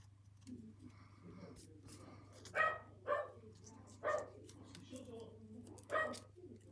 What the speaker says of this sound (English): He's barking at his dad to tell him he wants his chew